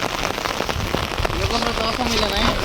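Dense, steady rain patters on farmland across 25 acres in Koraput, with scattered louder drops, and a voice murmurs faintly beneath it.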